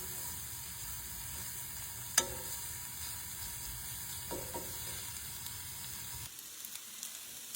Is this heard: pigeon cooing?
no